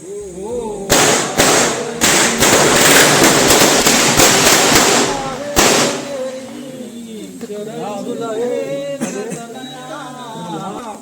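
Firecrackers burst at a Konkan Tulsi wedding ceremony in a rapid, loud, crackling string of sharp bangs lasting several seconds. The bangs give way to voices talking and chanting nearby.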